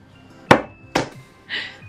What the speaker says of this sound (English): Might just get the hammer. Might need a little bit of convincing.